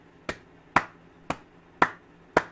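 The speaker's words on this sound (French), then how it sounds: "je suis tout seul à applaudir" One person clapping alone, five sharp, separate claps spaced about half a second apart, close and dry against a quiet room with no other voices.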